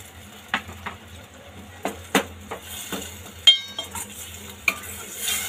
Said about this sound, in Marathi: आता यामध्ये जे आपण वाटण वाटलं होतं खोबरं कांदा भाजून ते वाटण टाकून घेऊया।